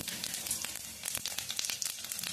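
Mustard seeds crackle and sizzle in hot oil for a tomato chutney, with cumin already in the pan. Sharp pops and spits come close and steady over a continuous fry hiss, and no one speaks.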